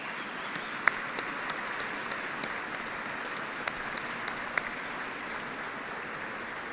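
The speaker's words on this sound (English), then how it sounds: "Give yourselves a round of applause." Troops at Yokota Air Base applaud themselves, a steady wash of distant crowd clapping with a few sharper nearby claps standing out, no voices over it.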